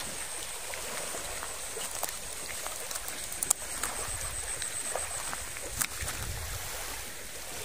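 Steady wash of water lapping along the shore of Thap Salao reservoir at night, with soft splashes and a few sharp knocks, continuous and moderately close.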